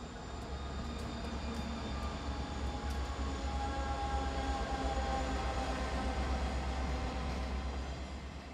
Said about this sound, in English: catch a UP train with a Chicago and Northwestern trailing diesel